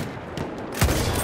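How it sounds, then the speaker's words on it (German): Machine gun fire in Battlefield 1, a short crackling burst of shots that swells sharply near the end over a noisy battlefield background. "Maschinengewehr!"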